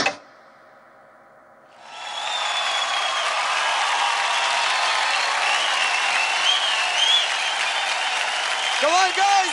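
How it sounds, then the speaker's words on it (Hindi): Studio audience at a televised dance competition breaks into loud, sustained applause after a quiet opening, mixed with cheering and whistles, with a voice briefly over the crowd near the end. "कम ऑन गाइस, जोरदार तालियां हो जाए सरम और वैभव के लिए"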